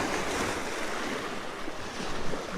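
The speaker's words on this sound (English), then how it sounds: "But there's a nice wave." Ocean waves splashing over rocks on a windy shore, a continuous broad wash of surf with light wind noise on the microphone, fairly close and steady throughout.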